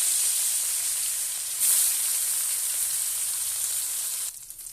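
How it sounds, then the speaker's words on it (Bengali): Rohu fish frying in hot oil in a wok makes a steady, close hiss and crackle that swells briefly, then thins out at the end. "তেলটা গরম হয়ে গেছে, এবার মাছ দুটোকে দিয়ে দেবো।"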